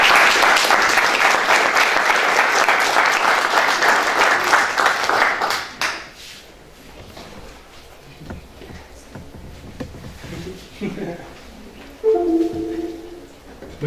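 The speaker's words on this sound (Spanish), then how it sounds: "Por favor, recíbanlo con un aplauso." An audience at a foundation event claps loudly to welcome a speaker, steady crowd applause for about six seconds that stops abruptly, followed by quiet room noise and a brief voice near the end.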